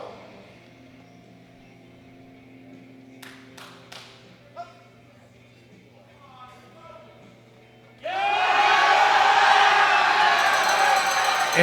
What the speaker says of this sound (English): You can hear all of his teammates cheering him on.